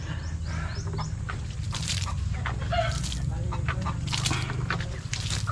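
Chickens cluck and call inside a farm coop housing egg-laying hens, a dense chorus of overlapping bird sounds over a steady low background hum, with no talking.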